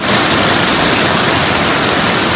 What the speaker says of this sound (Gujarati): આ તો ફૂલ ફાસ્ટ વરસાદ આવે છે ભાઈ